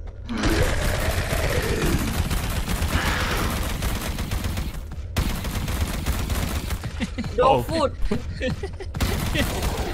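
Rapid bursts of automatic gunfire with booms in the video game Sketchy's Contract, loud and continuous, while people talk and laugh over it.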